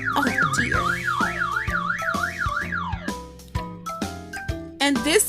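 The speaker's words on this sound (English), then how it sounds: "This car alarm won't stop beeping." A car alarm cycles through a rising and falling warble, then switches to a repeated tonal beeping pattern, loud and close, with cartoonish musical hits punctuating it.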